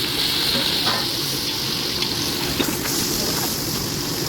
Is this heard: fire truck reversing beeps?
no